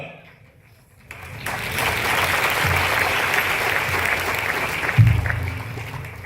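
An audience at a Christian sermon bursts into applause after a quiet moment: sustained, loud clapping from many hands that holds steady for several seconds with a brief louder swell near the end.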